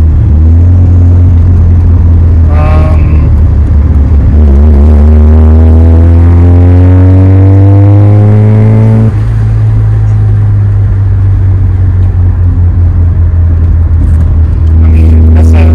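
Modified Mazda RX7 FB driving, a loud, close droning rotary engine note that rises steadily through the revs, drops abruptly with a gear change, then settles into a steady cruise.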